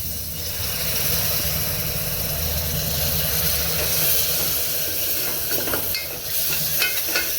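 A little water hits a hot spiced tempering with garlic-ginger paste and chilli in a pan, releasing a loud, continuous steamy hiss that holds steady and then settles into a bubbling simmer.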